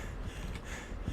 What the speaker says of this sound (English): Wolf, stop panting